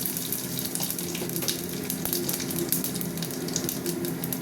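Asafoetida and whole spices such as dried chillies and panch phoron frying in hot oil in a pan: a steady, close crackling sizzle with small pops throughout.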